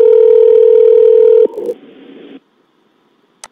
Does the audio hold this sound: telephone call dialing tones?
yes